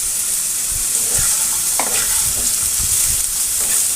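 Potatoes fry in a pan for a green banana and potato dish, with a steady close sizzle and occasional scraping stirs.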